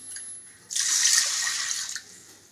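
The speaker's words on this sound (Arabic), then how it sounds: "عليها كوبايتين مية." Water pours onto dry rice in a pot for about a second and a half, a soft rushing splash at moderate level, with quiet surroundings before and after and no talking.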